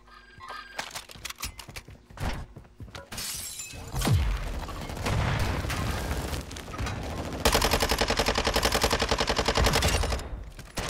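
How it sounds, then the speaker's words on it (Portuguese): Gunfire in a video game involving a helicopter, with chaotic bursts, shattering impacts and a rapid machine-gun rattle toward the end, loud and dense. "Um tiro."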